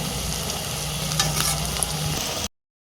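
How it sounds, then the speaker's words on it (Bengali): Taro leaf rolls deep-fry in hot oil until crispy, giving a loud, continuous bubbling sizzle with a few brighter crackles, then cutting off abruptly. "রোলগুলো আমি একটু সময় নিয়ে ভাজবো"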